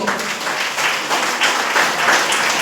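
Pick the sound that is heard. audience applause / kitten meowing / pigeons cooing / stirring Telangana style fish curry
audience applause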